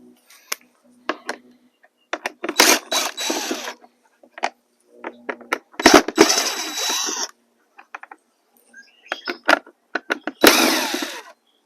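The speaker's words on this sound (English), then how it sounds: "we're going to remove this Phillips screw right here" Small tool clicks and ratcheting scrapes as Phillips screws are backed out of a Honda Odyssey turn signal assembly, coming in several separate bursts with quiet gaps between them.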